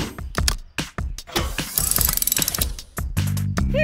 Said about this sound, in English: I'll bolt it back in place right away